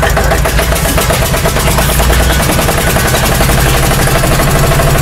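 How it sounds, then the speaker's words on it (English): An 8.5-litre, 461 cubic inch engine runs on the street, loud and close, with a steady, rough, pulsing roar throughout. "I've found some footage of this engine on the street."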